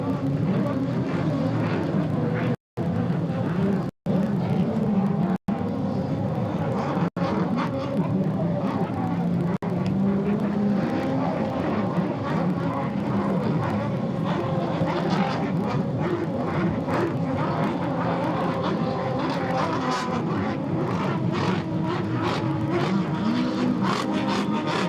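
Racing powerboat engines drone and whine continuously through the final lap at a Nauti Water Racing event in Windsor, a steady roar with shifting pitch and a few abrupt cuts early on.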